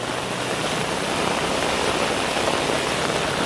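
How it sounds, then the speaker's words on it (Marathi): Heavy monsoon rain pouring down in Ashagad, Dahanu during flooding, a dense, steady roar of rainfall close by with no break and no voices. "पाऊस मात्र खूपच आहे मित्रांनो."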